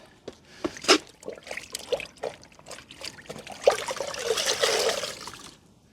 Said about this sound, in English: So I'm just going to rinse it into fresh water.